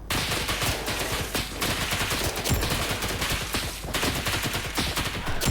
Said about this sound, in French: ça tire. Il y a des snipers sur le toit qui te tirent dessus